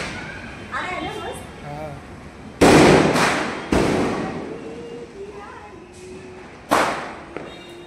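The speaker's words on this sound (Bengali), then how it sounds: "এইবার আমরা আমাদের বাজিগুলো পোড়াতে স্টার্ট করলাম।" Firecrackers bursting at a Kali Puja and Diwali celebration, a few loud sharp cracks and thumps spaced a second or more apart, with people talking nearby between the blasts.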